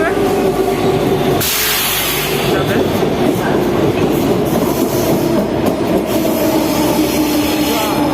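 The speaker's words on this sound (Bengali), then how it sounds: "ট্রেনও চলে আসছে।" A train pulls into a station in Portugal, a loud, close rumble with wheel noise and a burst of hissing air, then steady rolling clatter throughout, with voices faintly underneath.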